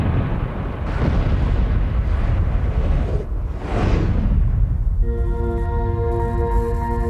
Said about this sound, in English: Explosive experts detonate the dynamite.